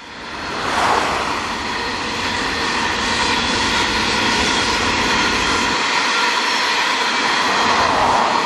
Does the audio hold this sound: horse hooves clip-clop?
no